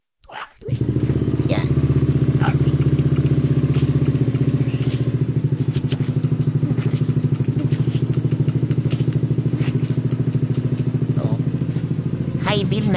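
A Yamaha NMAX motor scooter engine starts with a thump and then runs steadily, a loud close idling drone with some rattling clatter throughout.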